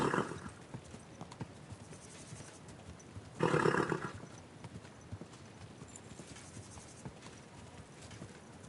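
Horse hooves walking slowly in the video game Kingdom Come: Deliverance 2, a soft steady clip-clop close by, with a brief louder burst midway and faint ambient sound.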